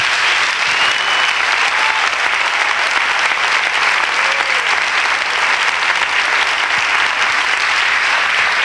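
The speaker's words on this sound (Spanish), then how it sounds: "Démosle palmas fuertes." A church congregation applauds loudly and continuously throughout, dense sustained clapping with no voices rising above it.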